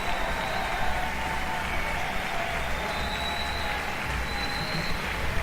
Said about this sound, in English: Blake Money gets a big hand from the crowd.